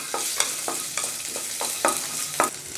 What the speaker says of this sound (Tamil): லைட்டாக இது எல்லாமே வறுபடட்டும்.